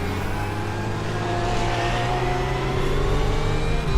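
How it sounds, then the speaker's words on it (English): Porsche GT3 race car engine in the iRacing simulation, a loud sustained drone that rises gradually in pitch as the car accelerates past. "Now the Porsche does make his way by."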